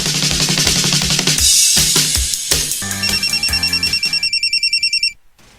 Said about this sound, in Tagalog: Kasaba bayaan ng imong cellphone Buning.